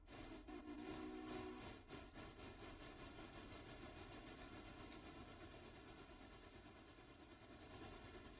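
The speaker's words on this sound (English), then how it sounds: "sound like that steam train's getting serious" A steam train chugs steadily with a fast, even rhythmic pulse, a constant mechanical clatter heard at moderate distance, with no voices.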